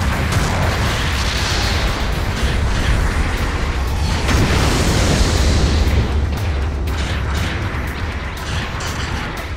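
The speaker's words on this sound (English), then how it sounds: "An ally has destroyed an enemy mobile suit." A mobile suit blows up in the Gundam Battle Operation 2 video game, a loud, sustained explosive roar with heavy low rumble that swells and holds for several seconds, with no voices over it.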